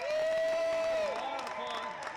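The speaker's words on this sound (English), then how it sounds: "A big round of applause for these guys." Crowd applauding and cheering after a sponsor doubles tennis exhibition at the 2015 Winter Classic, with a steady wash of clapping under a long whistle-like tone, a broad near round of applause that eases slightly toward the end.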